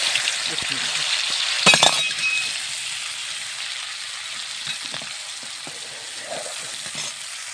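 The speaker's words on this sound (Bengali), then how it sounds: "আমি এখন আদা বাটা, জিরে বাটা, মরিচের গুঁড়ো, হলুদের গুঁড়ো ঢেলে দিলাম।" Ginger paste, cumin paste, chili powder and turmeric tipped into hot oil, a bright steady sizzle with a brief clatter of a utensil early on, gradually settling.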